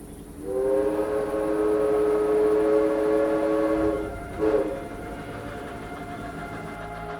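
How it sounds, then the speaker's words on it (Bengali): A shrill yet heavy steam train whistle sounds from a distance, one long sustained blast of about four seconds, then a brief second burst followed by quiet rumbling. "হঠাৎ করে দূর থেকে ভেসে এলো একটা অদ্ভুত তীক্ষ্ণ আর ভারী হুইসেল।"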